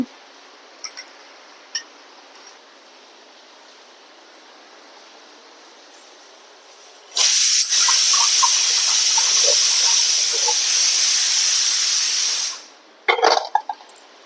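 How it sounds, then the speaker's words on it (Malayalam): A sharp, loud hiss of steam bursts from a pressure cooker cooking ghee rice and holds for several seconds, then cuts off, with faint clicks before and after. "ഇതിലെ ആവി വന്നിട്ടുണ്ട് നമുക്ക് വെയിറ്റ് ഇട്ട് കൊടുക്കുക"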